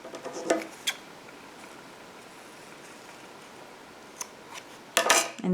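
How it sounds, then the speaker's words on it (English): Scissors snip a loose yarn end on a crocheted rose, giving a few crisp, close clicks at the start and again near the end, with quiet handling in between. "Then you can take and cut the loose yarn end."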